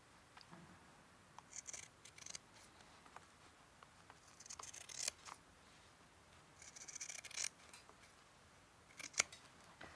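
Scissors cutting fabric for a trouser pocket repair, a few faint, sparse snips and rustles at close range in an otherwise quiet room.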